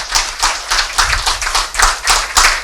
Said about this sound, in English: I believe a resounding applause is in order.